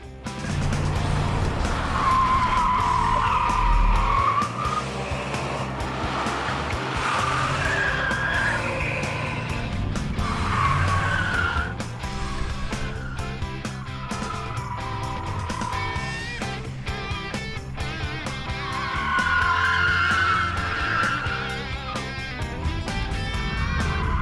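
A 305 V8 in a 1992 Chevrolet Camaro revs hard and roars through tight turns on an autocross course, with tires squealing and skidding as the car charges around.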